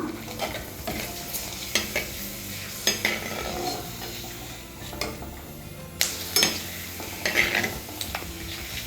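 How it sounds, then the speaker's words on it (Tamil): Oil crackles and sizzles softly as papads (appalam) fry, while a utensil scrapes and clinks against the pan in irregular strokes, close by, with no talking. "நம்ம வந்து அப்பளத்தை போட்டு பொரிச்சிக்கலாம்"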